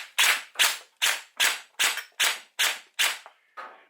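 Gel blaster fired semi-auto through a Falkor blaster: nine sharp, evenly spaced cracking shots, close and loud, the last one weaker.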